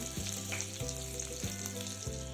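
Cut raw mango pieces frying in mustard oil with dried red chilli and black mustard seeds, a steady close sizzle with a few soft stirring scrapes of a spatula at regular intervals.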